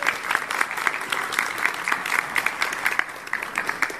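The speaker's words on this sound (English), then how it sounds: "Big round of applause for Dal." Audience applause at a magic convention's stage show, a dense, steady roar of many hands clapping with sharp individual claps standing out, moderately loud throughout with no talking.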